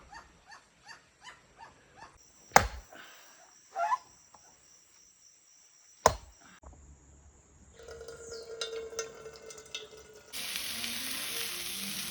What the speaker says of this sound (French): voici les bruits de la jungle parmi tant d'autres que font les piafs, les crapauds, etc.